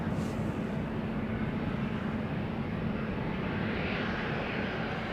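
A Boeing 737-700 jet departing Schiphol for Oslo gives a continuous, even engine roar with a low hum underneath, steady and moderately distant, with no talking.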